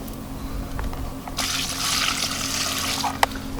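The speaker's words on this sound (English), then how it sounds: "just going to add a little bit of lake water in as well" Lake water is poured into a plastic bait tub for mixing carp ground bait, a steady close splashing trickle that starts after a quiet moment and runs for about two seconds, ending with a small knock.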